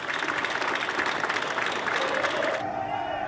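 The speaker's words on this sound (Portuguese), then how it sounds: "ganhou uma salva de palmas" Applause for Theresa May in the UK Parliament, a dense sustained clatter of many hands with crowd murmur, steady and fairly loud before thinning out near the end.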